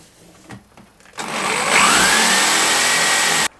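A power drill bores a hole in the corner of an old wardrobe door, preceded by a few light knocks. The motor then spins up and runs loud and steady for about two seconds before cutting off sharply.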